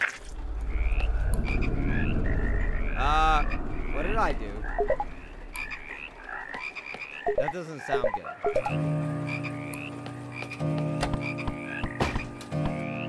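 Frog croaks from a video game played in a house, layered under a player's talk and game effects, with repeated short croaking calls standing out amid background music.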